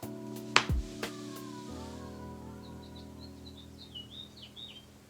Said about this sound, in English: I'm sorry if y'all hear the birds